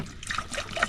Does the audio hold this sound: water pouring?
yes